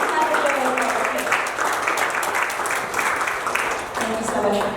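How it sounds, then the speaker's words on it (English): An audience at a dinner for local Vietnam veterans applauds a speaker, a continuous spread of clapping at moderate distance that keeps going for several seconds without pause. "You guys can clap for Joe real quick"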